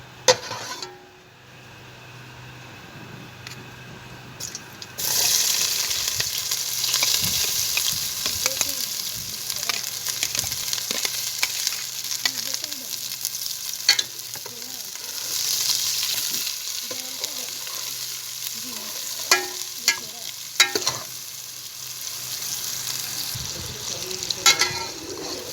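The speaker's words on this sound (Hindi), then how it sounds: "पहले हम अकेले प्याज इसमें ब्राउन करेंगे।" Chopped onions sizzle steadily in a pan on their own, with soft scrapes and clinks of stirring rising over the frying hiss, close and moderately loud throughout.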